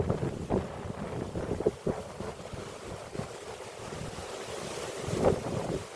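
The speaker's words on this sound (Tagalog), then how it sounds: "Ang hangin." Steady wind on Lantau Peak, Hong Kong, buffeting the microphone with a constant roar, broken by a few louder gusts and rumbling thumps.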